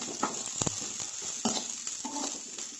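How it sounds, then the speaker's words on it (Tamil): Vegetables frying over a high flame for Maggi masala noodles, a steady soft sizzle with a few brief louder stirring clatters. "நானும் ஹை ஃப்ளேமில் வச்சு தான் வந்துட்டு ஃப்ரை பண்ணியிருக்கேன்."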